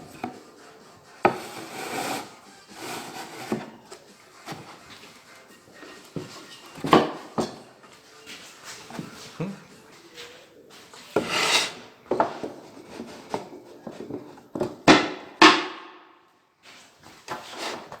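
Wood being cut by hand for a desk drawer in a woodworking shop: uneven rasping and scraping strokes in short bursts, close and fairly loud, with brief pauses and knocks between them.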